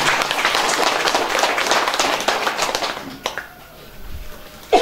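A village crowd claps at an outdoor Golkar party campaign event for a local council candidate in Lembata, with dense, loud applause that thins and fades out near the end.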